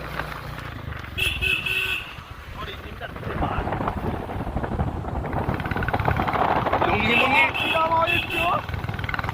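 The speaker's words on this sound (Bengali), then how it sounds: "বাইক কিরম আওয়াজ হচ্ছে ভাই এটা" A motorcycle fitted with a changed silencer rumbles steadily under gusty wind noise, with short horn toots from nearby traffic and people talking over it.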